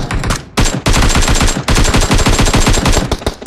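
Automatic gunfire from a no-recoil weapon in PUBG Mobile rattles out in loud, rapid bursts, with a brief pause between long, close volleys.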